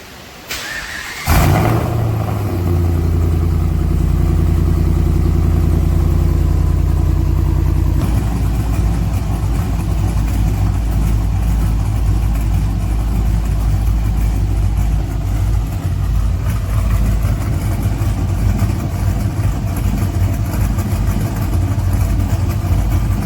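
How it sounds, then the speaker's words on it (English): A Ram 1500 pickup fitted with DynoMax Race Bullet mufflers cranks over and fires up, then settles into a steady, loud, deep exhaust idle that rumbles on alone for about twenty seconds. "That's the idle with the race bullets."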